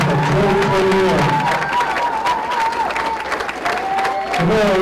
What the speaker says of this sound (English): please join us once again in applauding Columbus Scioto High School's newest alumni